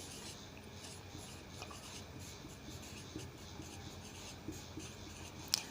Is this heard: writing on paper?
yes